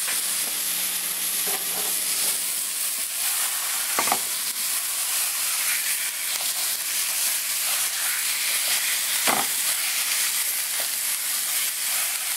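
A pound of ground beef browns in a pan for chili, giving a steady loud sizzle and hiss with occasional scraping stirs, no one talking.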